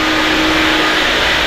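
A power tool runs with its vacuum dust collector attached on a building project, a loud, constant broadband whir with a steady motor tone and no break or speech.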